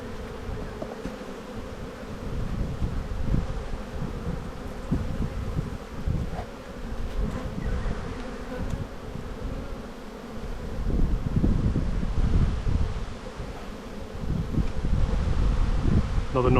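Honey bees swarm around an open hive being smoked, a dense continuous buzzing close to the microphone with light wind noise and rustling underneath.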